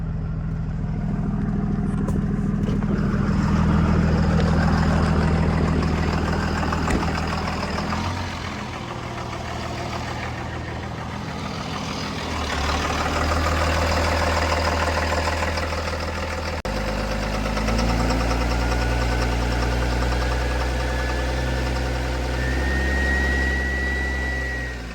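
High-horsepower diesel truck engine running on a dyno during a 2000HP engine dyno session, a loud, steady low rumble with shifting load and pitch across the clip, no talk over it.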